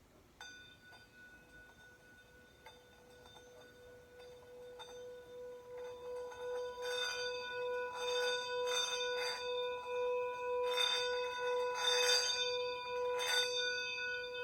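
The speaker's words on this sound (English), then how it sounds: "you rub on the outside of the bell, and the vibration causes it to sing" A steady, sustained handbell tone made by rubbing wood around the outside of the bell, swelling gradually in loudness, with a shimmering, pulsing overtone as it rings continuously without any strikes.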